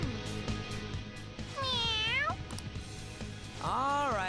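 A cat in a video game lets out two separate rising-and-falling meows, close and clear, over a soft low hum with faint clicks between them.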